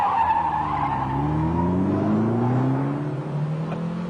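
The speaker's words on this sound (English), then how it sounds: "Well, that was a quick start" A 1985 MG Montego Turbo accelerates hard from the line, tyres squealing briefly as the turbocharged engine revs climb steadily in pitch, loud and close throughout.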